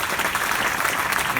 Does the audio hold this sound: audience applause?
yes